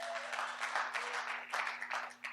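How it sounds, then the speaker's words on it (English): Light audience applause at a business event, a brief patter of clapping from a small crowd, fairly faint over a steady hum. "Give him a round of applause."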